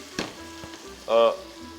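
Onion frying in a pan gives a low, steady sizzle, with a brief clink and a short, louder tonal scrape partway through.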